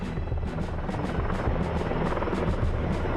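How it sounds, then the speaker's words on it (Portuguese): Rhythmic rotor thumping of a firefighting helicopter carrying a water bucket overhead, steady and fairly loud with a constant engine whine beneath. "Junto com eles vieram os helicópteros com cestos de armazenamento de água"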